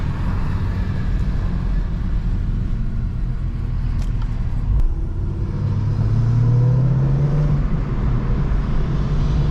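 A BMW 335xi pulls away in a steady low rumble heard from inside the cabin, its engine tone climbing as it accelerates while racing a Camaro.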